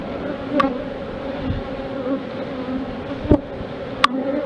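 Honeybees buzz in a dense, continuous drone around an opened hive during brood inspection, with a few individual bees zipping close past the microphone; no talking.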